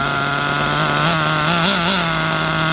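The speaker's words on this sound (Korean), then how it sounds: "VRX 28급 엔진이고요 스타트 바로 시작하겠습니다" The 28-size nitro engine of a VRX2 RC buggy runs at a loud, steady high-pitched buzz, with brief revs wavering the tone midway and no talk.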